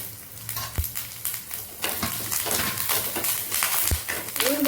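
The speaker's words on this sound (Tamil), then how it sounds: "இப்போ காஞ்ச மிளகாயும் போட்டுருவோம் பாதி வதங்கும் போது தேங்காய் பூ போடுவேன்" Dried red chilies and grated coconut fry in a pan with a continuous close sizzle, broken by a few sharp metallic knocks of a spatula stirring against the pan, no speech.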